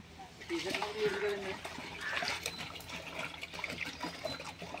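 Filtered water from a bucket pours into a biryani pot set on a wood-fired stove, a continuous splashing trickle under a person speaking throughout.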